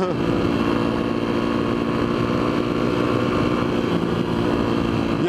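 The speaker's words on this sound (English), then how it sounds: "So that's about the biggest wheelie I can do." Motorcycle engine held at steady, loud revs during a wheelie near a lake, a continuous close drone without breaks or gear changes, with no voices.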